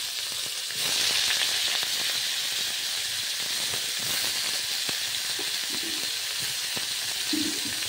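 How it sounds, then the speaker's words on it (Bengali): Steamed cauliflower frying in a little oil, a bright, steady sizzle and hiss that swells after the first second and keeps going, with occasional faint clicks and knocks nearby. "আমি ফুলকপিটা ভাপিয়ে নিয়েছিলাম, এবার ভেজে নেব একটু তেলে"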